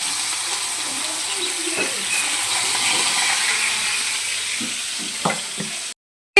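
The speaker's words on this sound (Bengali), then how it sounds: "মাছ ভাজাটা বসাই" Fish fries in hot oil in a home kitchen, sizzling with a steady close hiss, a few pops and clinks near the end before the sound cuts off.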